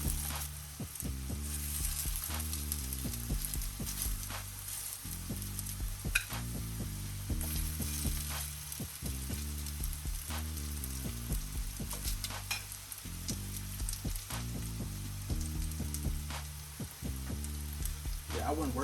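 Meatballs frying in a pan, a continuous close sizzle running throughout, with irregular crackles and pops and occasional faint clinks.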